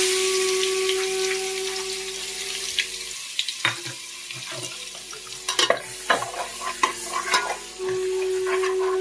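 Ginger, garlic and chilli paste added to browned onions in a pot for egg biryani, with a low steady sizzle and busy clattering stirring strokes, plus a faint tonal hum in the background.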